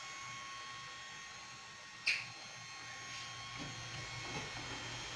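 A do-it-yourself GenTech 3D printer, assembled from spare parts, runs with a faint, steady mechanical whir and hum, broken once by a sharp click and a few softer ticks.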